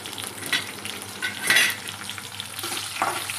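Onions and green chillies frying in a pan for beetroot rice, a close crackling sizzle broken by a few sharp stirring scrapes of a spatula.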